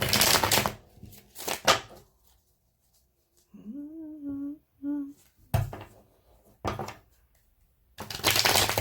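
Tarot cards being shuffled by hand in several short, dense bursts of riffling and slapping, near and fairly loud, split by quiet gaps; a short hummed or sung tone falls in the middle.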